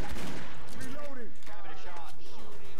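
Gunfire in the video game Left 4 Dead 2, with several loud shots in quick succession at the start, followed by someone talking over quieter background game noise.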